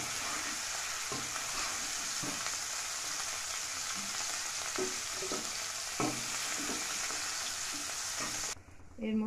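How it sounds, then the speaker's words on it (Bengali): Cauliflower florets stirred and fried in a pan, a constant close sizzle broken by regular soft spatula scrapes and knocks, then the frying cuts off abruptly near the end. "ফুলকপিগুলোকে এইভাবে নেড়ে চেড়ে ভেজে নিতে হবে ভালো করে।"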